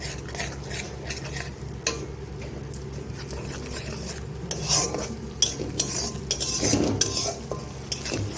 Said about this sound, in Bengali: ভালো করে এইভাবে একটু মশলাটাকে আর একবার কষিয়ে নেব